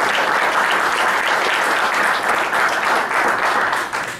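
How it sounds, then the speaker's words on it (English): A crowd at a council meeting applauds steadily and loudly throughout, a dense wash of clapping that begins to fade slightly at the very end. "So how about a nice round of applause for that piece first?"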